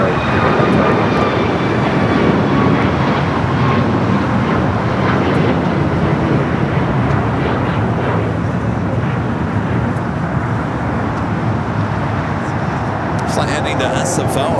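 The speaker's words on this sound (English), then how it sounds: "KLM waiting to cross over United 737 MAX, rolling down at 25 at right" A United Boeing 737 MAX 9 rolls down runway 25 right at Los Angeles International Airport, its loud jet roar sustained and steady near the listener, with a voice speaking over the noise.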